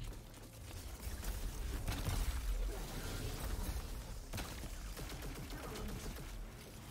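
Enemy gunfire in the Destiny 2 Grandmaster Nightfall Insight Terminus, a dense rattle of rapid shots with mechanical clatter and low rumbling, continuous at moderate level for several seconds, somewhat distant and muffled, no voices.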